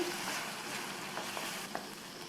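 Chopped medium tomato stirred into masala frying in a pan for a brinjal dish, a soft continuous sizzle with faint stirring scrapes, fairly quiet and without talk.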